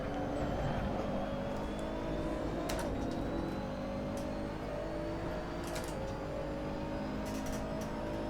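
McLaren GT race car engine in Assetto Corsa during a Blancpain Sprint Series race at Misano, a steady droning whine with slowly rising pitch like a car closing in alongside, with faint clicks over the top.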